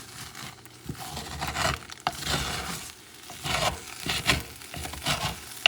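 Rice with chorizo being stirred in a pan, with turmeric in the mix: scraping, stirring strokes over a steady close sizzle, moderately loud, with no talking.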